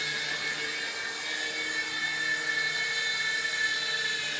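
Small F-415 4.5-channel remote-control helicopter flying and landing, a close, constant high-pitched motor whine with steady buzzing rotor hum, alone and unchanging.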